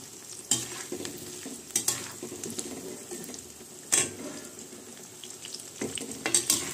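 Bay leaves sizzle in hot oil for tempering, with a steady frying crackle broken by sharp clinks and scrapes of a spoon stirring in the pan, close and moderately loud.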